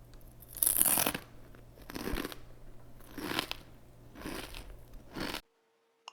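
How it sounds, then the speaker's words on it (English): Crunchy food being bitten and chewed, heard as five separate crunching bursts spaced about a second apart, fairly close and alone, with no voices, ending abruptly in silence. "You heard someone eating crunchy food."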